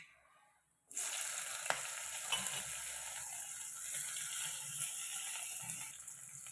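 Spring onion dropped into hot oil for baingan bharta, a sudden loud burst of sizzling that settles into a steady, dense crackle with a faint clink, close and alone.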